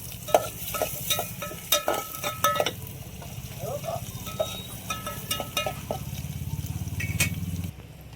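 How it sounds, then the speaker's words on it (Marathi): Onion sautéing with chutney in a pan for mutton curry makes a loud, busy sizzle, with frequent metal spatula clinks and scrapes against the pan in an uneven rhythm throughout. "चटणी टाकून कांदा मस्त परतून घेऊ"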